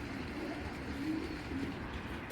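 Racer pigeons coo in a steady, low murmur with a couple of clearer coos standing out near the middle, set against a constant dense background hum, with no talking.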